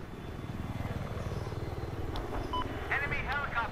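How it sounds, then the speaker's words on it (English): An enemy helicopter in the video game Battlefield 4 gives a steady, pulsing rotor chop throughout, with electronic radio beeps and faint background game sounds layered on top. "Enemy helicopter spotted."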